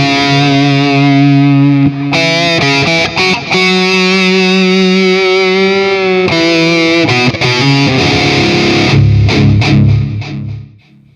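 An electric guitar played through a Mooer GE200 modeling a Diezel Hugen amp with distortion rings out loud and saturated, sustained chords and shifting notes ending in a chugging burst that fades out.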